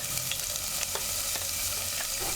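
Chopped scallion and mashed garlic sauté in a saucepan on the stove, giving a steady, soft sizzle with a few light spoon scrapes as the aromatics are stirred, close up and with no talk.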